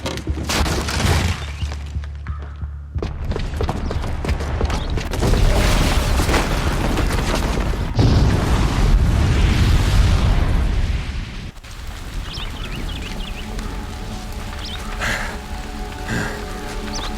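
A bomb booby trap going off in a video game, heavy rumbling explosions and debris crashing in sustained waves, loud and close, with a dense roaring blast around the middle before settling into lingering crackle.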